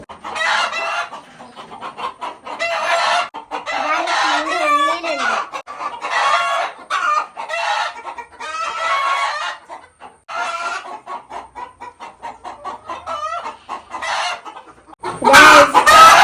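Hens cluck repeatedly in short bursts, close and fairly loud, on a Kerala chicken farm as a hen sits to lay eggs, with a rooster crowing briefly partway through and some brief noise at the end.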